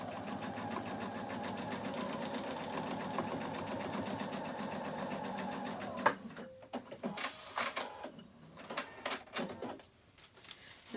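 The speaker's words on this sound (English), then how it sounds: "I'm going to start sewing right here and go all the way off the edge." A sewing machine stitching quilt arch pieces onto paper runs in a steady, fast whirr for about six seconds, then stops; scattered handling clicks and rustles follow.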